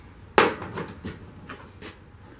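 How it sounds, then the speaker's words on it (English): A screwdriver knocked against a garage floor while swapping bent forks on a Yamaha TW motorcycle, one sharp close tap followed by a few fainter knocks. "just knock my driver on the floor here"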